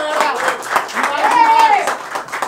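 A crowd claps at an outdoor rap battle event, scattered rhythmic claps mixed with cheering and shouting voices, moderately loud with a brief whistle-like tone rising and falling mid-way.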